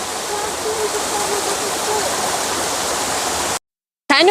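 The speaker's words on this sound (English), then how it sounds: "We've made it to the falls. And it was kind of worth it. It's loud." Roaring rush of Happy Creek Falls, a set of waterfalls on a North Cascades hiking trail, heard close and loud as a steady dense wash of water, briefly cut to silence near the end before resuming.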